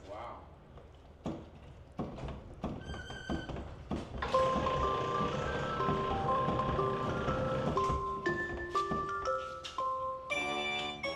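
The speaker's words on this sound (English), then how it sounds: "If you turn the crank, I can come out and sing you a song." Crank-operated Mr. KB animatronic toy at the American Treasure Tour Museum, clunky mechanical knocks and winding, then a tinkly electronic tune plays, with a voice faintly present.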